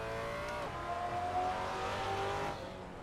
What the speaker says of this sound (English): I'd love to see a race car version of this car because it has a good sound to it